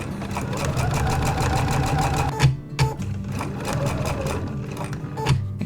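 A domestic sewing machine stitches a quilt top with a short back stitch, its needle hammering in a fast steady rhythm, close and loud, with brief pauses and restarts as the fabric is guided.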